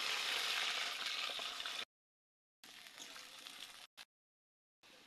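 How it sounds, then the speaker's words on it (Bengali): Green beans frying in oil, heard as a dense crackling sizzle in bursts separated by abrupt silent gaps, moderately quiet and with no voices. "তেলে বিনস ভেজে নিব এবার।"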